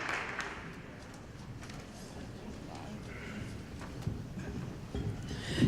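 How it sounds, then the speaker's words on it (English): Audience applause in a conference hall welcoming a speaker to the stage, a dense steady wash of clapping that carries through the whole stretch with a few louder swells near the end. "Please give her a warm round of applause"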